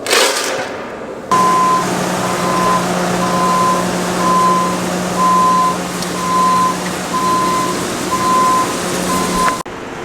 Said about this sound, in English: One more truck to dump.